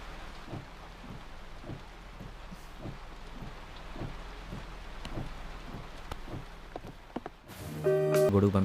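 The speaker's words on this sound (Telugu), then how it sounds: "వర్షం ఆగేలా లేదు." Heavy rain falls steadily in a film scene, a dense continuous patter with rhythmic drips, then a sudden louder burst with a bright tone near the end.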